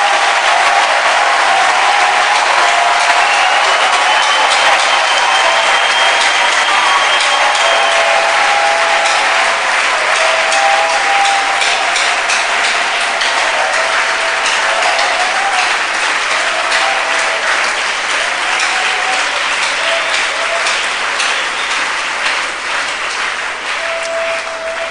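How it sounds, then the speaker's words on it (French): A large church audience claps steadily to praise the Lord, a dense continuous wash of applause that holds loud for the full stretch and eases slightly at the end. "clap for the Lord for having won"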